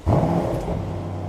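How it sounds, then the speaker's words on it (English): Mercedes-AMG S63 E Performance sedan starting up with its exhaust valve open, a loud deep rev that swells then settles into a steady throaty rumble close by, with no talking. "you basically have directly, an open valve in the exhaust, and it sounds then like this."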